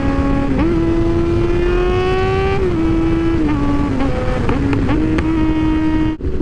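Motorcycle engine downshifting, its steady droning pitch stepping down and jumping in a series of abrupt drops as gears change, loud and close throughout with no talk.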